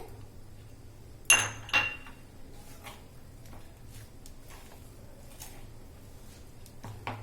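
A spoon mixes chopped onion into a bowl of semolina and cream bread-pizza topping, giving two sharp clinks against the bowl followed by faint, intermittent scraping and taps in a quiet kitchen.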